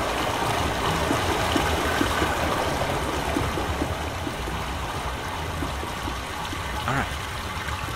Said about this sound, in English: Now we actually have water flowing through it.